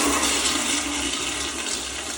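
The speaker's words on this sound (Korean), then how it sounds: "저는 체크아웃 하기 전에 변기물이 너무 센 게 신기해갖고 찍었어요." A powerful hotel toilet in Las Vegas flushes with a loud, steady rush of water that fills the whole stretch, close and alone with no voices.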